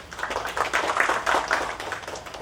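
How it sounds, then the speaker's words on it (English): Audience at an event honouring Leela Hotels gives a short round of applause, a modest spread of clapping hands that swells and thins over a couple of seconds, with no speech. "I think a big round of applause to Leela."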